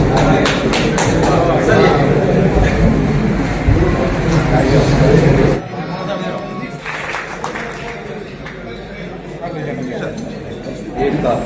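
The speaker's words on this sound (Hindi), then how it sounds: "तालियों में कभी जोरदार ताली के साथ" Loud applause from an audience at an engineers' federation event held on Sir Mokshagundam Visvesvaraya's birthday, a dense burst of clapping for several seconds that cuts off abruptly, followed by quieter room sound and someone speaking.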